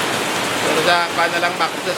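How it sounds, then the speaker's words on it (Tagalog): Steady rain keeps falling after a day-long downpour, a dense broadband hiss filling the air, while someone talks briefly over it. "patuloy pa rin yung ulan mula pa kahapon"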